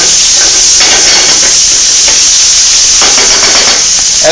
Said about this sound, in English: take that chicken and put it in our fire, and as it's in the fire you can hear that nice sizzle going